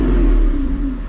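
A Lamborghini Revuelto's naturally aspirated V12 gives a loud, close rev that swells and then fades away, a rich engine roar lasting about a second with no voices.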